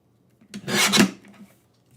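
Paper piece being trimmed for a floral craft card, a single scraping, rasping cut lasting about half a second, close and fairly loud, with a softer tail and quiet before and after.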